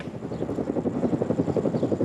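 Tony Blair's helicopter touching down at Gleneagles, its rotor beating in a loud, steady, rapid chop with a low engine drone throughout and no voices.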